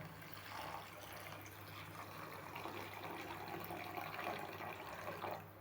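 Steady rushing of water pouring into a pot of vegetable kurma, a continuous splashing wash with no talking.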